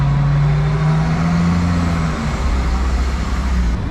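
Traffic on a city street in Serbia, a steady nearby rumble of engines and tyres with deep motor drone from passing cars and heavier vehicles, continuous with no voices.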